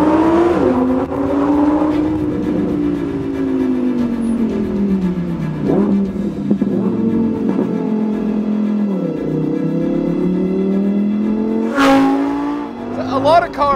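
A 2020 Lamborghini Huracan Evo Spyder engine revs and accelerates loudly and close, its pitch rising and falling in long sweeping pulls, with a sharp high burst near the end.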